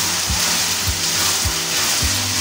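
Aloo keema fries with three tablespoons of yogurt over high heat, giving a continuous loud sizzle with low scraping stirs roughly every half second.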